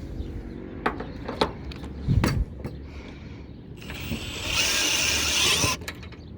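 A power screwdriver set to maximum torque drives a fixing screw into a roof tile, with sharp ratcheting clicks and knocks, then a steady whirring run of over a second close by, ending in further clicks.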